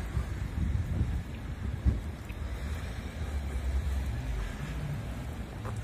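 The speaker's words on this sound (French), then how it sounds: "il y a du vent" Gusty outdoor wind buffets a handheld smartphone microphone, producing a steady broad rumble with a brief stronger gust near the two-second mark and no talk.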